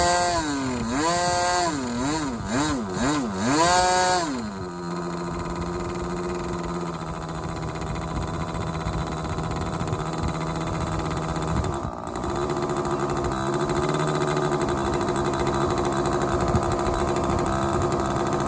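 A model glow engine revs up and down several times as the throttle is varied, a close, loud buzzing whine, then settles into a steady, continuous idle.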